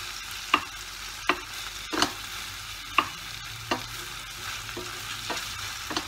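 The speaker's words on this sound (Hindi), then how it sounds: "टमाटर डालकर कुछ देर के लिए और फ्राई करेंगे मसाले को" Spices and tomatoes fry in a pan for millet pulao, with a soft continuous sizzle broken by a series of sharp scrapes and clacks as the mixture is stirred at a steady, unhurried pace.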